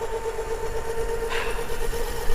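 A scooter engine idles steadily, a close, continuous low hum with a faint whine that stays even throughout. No one speaks.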